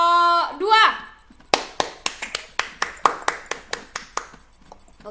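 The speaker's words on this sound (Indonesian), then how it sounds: "kita kasih tepuk tangan untuk kelompok 2" A classroom of students claps for a group that has just presented, a burst of about a dozen sharp, fairly even claps following a short rising voice at the start.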